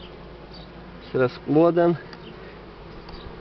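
Buckfast honey bees hum steadily inside an open hive in spring, a dense low drone that runs throughout while someone speaks briefly over it.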